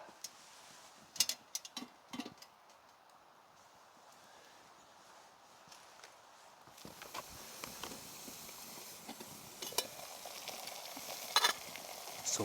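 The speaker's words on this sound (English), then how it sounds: "So our water is boiling." Water in a covered pot bubbles and hisses quietly, growing busier partway through, with scattered small clicks and pops close by.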